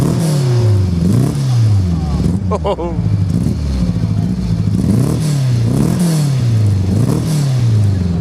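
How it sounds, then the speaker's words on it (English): Lotus Elan 26R race car engine at Silverstone fires up and revs in repeated rising and falling bursts, loud and close, with a brief voice exclamation over the throaty engine note. "We're just going to fire this car up and see if it starts now."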